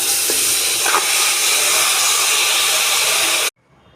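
Marinated chicken dropped into a preheated AMC cooker with no oil gives a loud, steady, broadband sizzle close by, hissing continuously for several seconds before cutting off abruptly.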